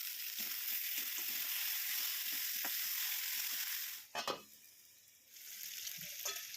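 Chicken pieces are sautéed with ground spice paste, salt, turmeric and chopped tomato, making a continuous soft sizzle with stirring. The sizzle dips briefly near the end under a few louder clatters, then picks up again.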